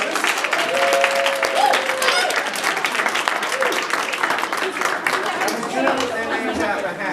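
Audience at a Poetry Out Loud recitation event applauds the first round of reciters, sustained broad clapping with a few whistles and cheers threaded through, steady and fairly loud.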